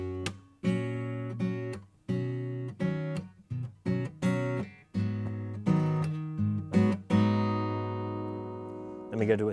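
An acoustic guitar plays a fingerpicked pattern from a song, with clear plucked notes and ringing chords in a lilting rhythm, close and alone, no talking.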